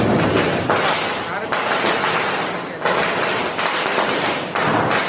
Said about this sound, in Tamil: தீபாவளி பட்டாசு வெடிக்க ஆரம்பிச்சிட்டாங்க